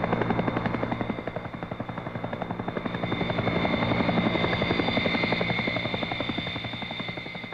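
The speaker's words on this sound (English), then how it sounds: "they're lifted in by Chinook helicopters of the brigade's tactical transport company" A Chinook helicopter flies over during a Vietnam War troop lift, its rotor throbbing in a loud, steady, fast beat that swells and eases slightly throughout.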